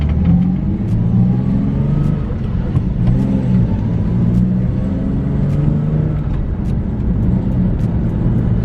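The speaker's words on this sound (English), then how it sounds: "This car is revved." A turbocharged Nissan 350Z engine revs hard while driving, a loud, close, rumbling drone that holds steady and rises and falls slightly in pitch through gear changes, with no talking.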